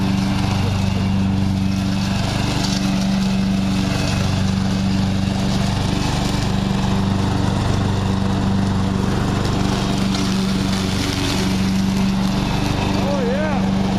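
A tractor engine runs steadily for the whole stretch while being ridden around outdoors, a loud, constant droning hum with no breaks, and a voice can be heard faintly over it.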